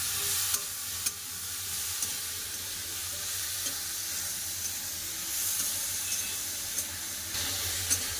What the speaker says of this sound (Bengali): আলু ঝিঙা ভালো করে ভাজা হয়ে গেছে